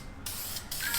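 A spray can hisses in two short close bursts, the second longer, while work is done on new wheels for a Nissan 350Z.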